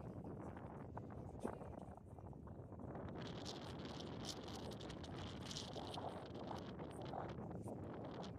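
Strong seaside wind on an island near an old harbour and railway station buffets the microphone in a constant low roar, with gusts and rustling growing busier in the second half; no one speaks.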